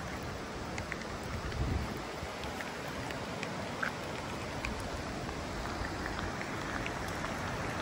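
Heavy rain pours steadily over a riverside village, a dense, even hiss with some wind buffeting the microphone.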